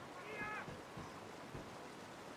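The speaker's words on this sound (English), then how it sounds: "Aw, little kitty!" A cat in Brothers: A Tale of Two Sons gives one short, faint meow over a steady wash of game ambience like waves or surf.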